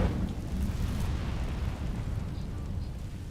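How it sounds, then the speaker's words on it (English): An Incendio fire spell in Hogwarts Legacy setting dry vines alight, a sudden loud whooshing burst that settles into a rough roaring crackle of burning, with no talk over it. "现在开始在烧他们的药草。"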